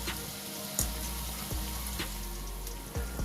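Rasbora fritters made with khesari lentils fry in oil with an even, moderate sizzle, broken by several brief clicks and taps from a utensil.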